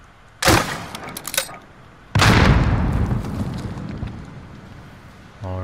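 Two loud booming bursts ring out in the Modern Warfare video game, a short one followed by a longer blast that trails off slowly, with a brief faint tonal game sound at the end.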